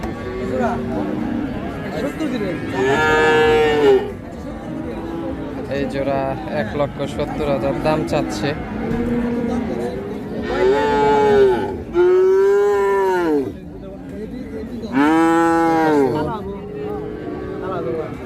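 Crossbred cattle and calves moo loudly several times at the Hazratpur cattle market, long drawn-out calls rising over a crowded, noisy setting where people keep talking throughout.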